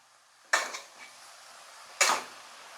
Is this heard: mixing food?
yes